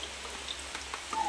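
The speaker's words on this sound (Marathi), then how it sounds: "पावसाची रिपरिप बघा अजून पण चालूच आहे पाऊस" Steady, faint rain patters outside a home during the monsoon, a soft continuous wash with a few sharper drops, with no talk over it.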